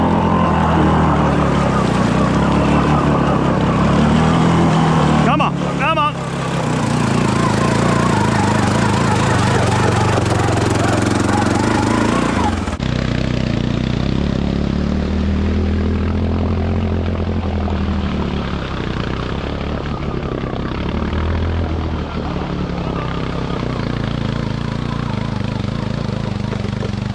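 Honda 6X6 six-wheeler ATV engine running hard, a loud, continuous, close drone with shifting pitch as it revs and labors, steady throughout with wind and rumble and no clear talking.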